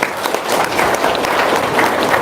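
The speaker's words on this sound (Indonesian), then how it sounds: "Tepuk tangan dulu dong." A seated audience gives a short round of applause, brisk and steady, with some voices faintly mixed in.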